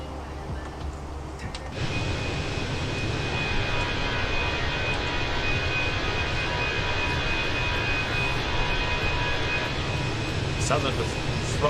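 Airbus A320 jet engines in Microsoft Flight Simulator 2020, Cyprus Airways flight from Larnaca, held at a high throttle setting: a steady, loud broadband roar with a constant whine, rising sharply near the start and sustaining evenly.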